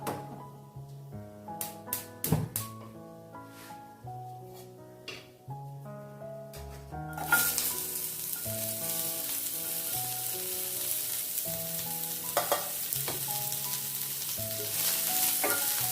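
Onion dropped into hot oil while making mutton gravy, first a few clanks and taps against the pan, then a sudden loud sizzle that holds steady and close to the end.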